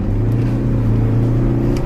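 A custom-tuned car pulls hard at full throttle, its engine drone loud and steady, close by, with no voices over it.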